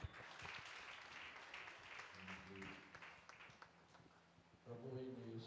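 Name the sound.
congregation applauding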